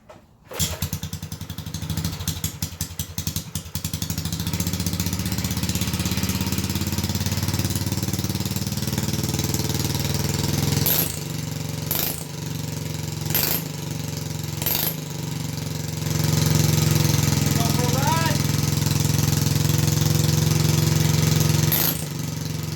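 A Briggs & Stratton flathead engine on a mini bike with a Mikuni-style carburetor starts on choke. It sputters, then settles into a steady, loud, close idle, with a few sharp knocks and a slight rise in revs.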